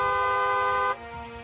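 A vehicle horn sounds in a single bright, steady blast close by for just under a second, then cuts off abruptly, leaving a faint low hum behind it.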